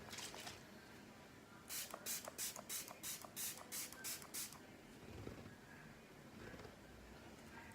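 Rapid bursts of MAC Fix Plus setting spray misting from a pump bottle, roughly ten quick hissing spritzes in a steady rhythm, close and fairly quiet against a soft room background.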